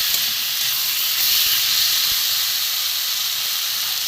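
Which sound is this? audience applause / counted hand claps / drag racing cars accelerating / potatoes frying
potatoes frying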